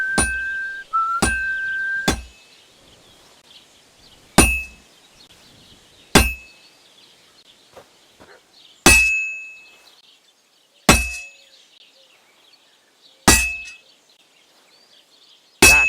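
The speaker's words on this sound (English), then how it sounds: "if it was all about hitting an anvil with a hammer" A smith's hammer strikes an anvil at a forge in Kingdom Come: Deliverance 2, about nine loud, ringing metallic clangs spaced a second or two apart, each leaving a lingering tone that fades before the next blow.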